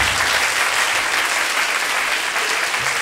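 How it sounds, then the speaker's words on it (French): Loud, dense audience applause fills a live theater show, a continuous close wash of clapping with no gaps. "Vous pouvez applaudir très fort."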